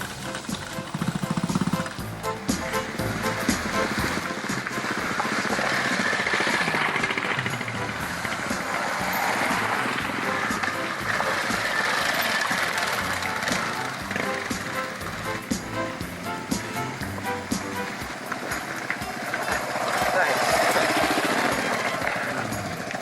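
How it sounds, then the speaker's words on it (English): A vintage 1970s Ducati 450 motorcycle engine runs loud and continuous during a rough dual-sport trail ride near Davis, West Virginia, with a rattling, buzzy roar and wind noise throughout. "This is a 1970s vintage Ducati 450."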